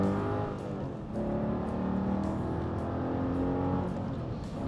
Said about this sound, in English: I'm going through some gears there, and I'm not quite going to jail for how fast we're going.